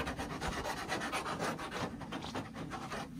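Rhythmic rasping strokes of a hand file smooth the corners of a drilled hole in a wooden garden table, a steady back-and-forth scraping up close at moderate volume.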